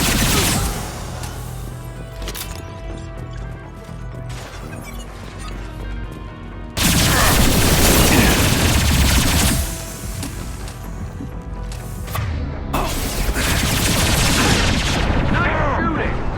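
Gunfire in the video game Mass Effect 2, repeated loud shots and bursts with crashing impacts, a heavy blast standing out midway, mixed with game voices and combat noise.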